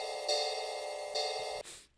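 A drum-and-bass ride cymbal sample loop alternating a long hit and a short hit, the same sample repeated with the first louder than the second; bright sustained metallic wash struck twice, then cut off near the end.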